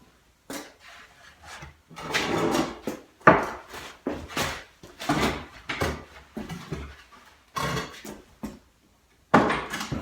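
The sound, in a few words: setting a folding outfeed table on its cut legs, opening them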